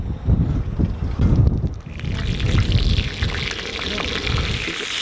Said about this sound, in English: And Now we're getting some wind.